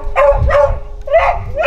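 Several dogs bark repeatedly at an abandoned house in a village in France, loud and near, in a steady rhythm of overlapping barks.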